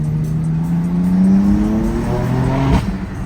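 A BMW M3 downshifts on a rocky, unpaved road, its engine note stepping through gears with rising and falling revs, loud and close, plus a brief rev blip near the end.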